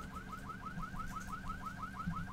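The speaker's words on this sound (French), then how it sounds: "C'est quoi cette alarme?" A car alarm wails in the game Vampire: The Masquerade - Bloodlines, with a steady repeating rising chirp cycling about every fifth of a second, moderately loud and alone, with no voices.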